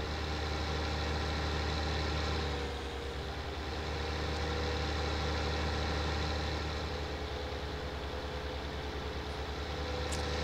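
A truck and a tractor in Farming Simulator 19 on the Matopiba map hold a steady, droning engine rumble, a continuous low idle that barely changes for the whole stretch.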